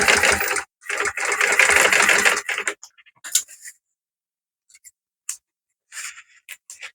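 A sewing machine stitches down the flap of a small fabric zip pouch, running in two loud, steady bursts near the start, then stopping for scattered short clicks and handling noises with silence in between.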